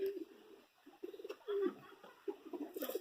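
A Madrasi-type pigeon coos in soft, low, throaty bursts, several short rolling phrases separated by brief pauses, close but quiet, with no talking.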